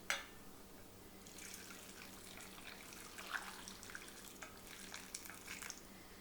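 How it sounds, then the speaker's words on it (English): Brine being poured over apples in a jar for spiced cinnamon apple canning, a faint, continuous trickling and splashing liquid sound with small drips, close by and without talking. "So we're going to pour the brine over the apples."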